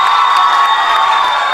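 Crowd noise at a junior men's 10m air pistol shooting final, with steady cheering and clapping filling the hall at close range, continuous and loud with no single claps standing out.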